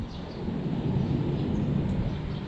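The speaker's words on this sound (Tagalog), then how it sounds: "masyadong mahangin" Steady low rumbling wind buffeting a microphone outdoors at a river, continuous and fairly loud with no voices.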